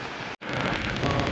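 Storm wind and heavy rain lash Jaffna, a loud continuous roar of downpour and gusts that drops out for a split second before surging back.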